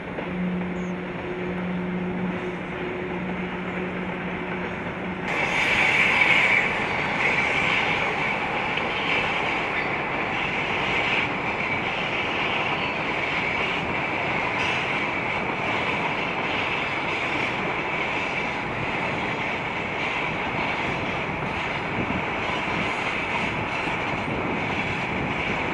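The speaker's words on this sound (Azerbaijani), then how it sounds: "Yaxın məsafədən hərəkət edən düşmən qatarının səsi də az qalırdı ki," An enemy train moving at close range near the Armenian border, a loud continuous rumble and rolling roar that swells after a few seconds and holds steady without letting up, no voices over it.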